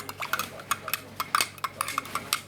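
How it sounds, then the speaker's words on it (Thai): A chia seed mixture being stirred in a container, with quick, light clinks and scrapes of a spoon repeating in a brisk, uneven rhythm, close up and with no talking. "แล้วก็คนส่วนผสมทั้งหมดเข้าด้วยกันนะคะ"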